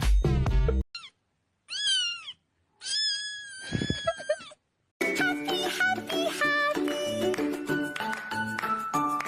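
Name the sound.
cat meowing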